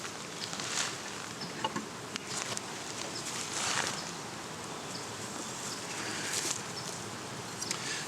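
Honey bees buzzing in an opened beehive, a soft, continuous hum of many wings close by, with occasional brief louder passes and light handling rustles.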